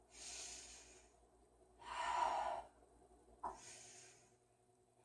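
Slow, deep breaths during a beginner yoga practice, two or three long airy inhales and exhales spaced apart, soft and close with quiet pauses between, no talking.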